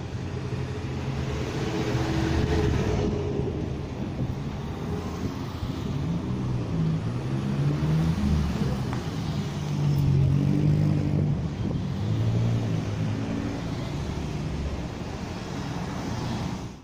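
Cars rolling over a damaged, sunken stretch of road, a steady low rumble of traffic and tyre noise with wind buffeting the microphone throughout.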